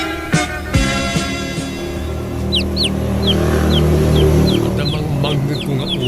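Chickens cluck in a run of short, chirpy, rising calls over a steady low hum, preceded by a couple of sharp knocks, in a rural Ilocano household comedy drama setting.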